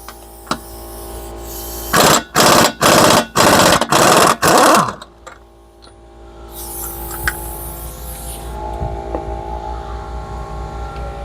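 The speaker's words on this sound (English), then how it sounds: "but it ended up having to bust out the impact" An impact wrench hammers off a front CV axle nut on a Silverado 4x4 in five rapid, loud bursts, followed by quieter shop background noise.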